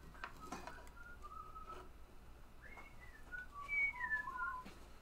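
A person whistles a short, wandering tune indoors, the notes fairly quiet and rising and falling in pitch over a few seconds with faint room noise and no talking.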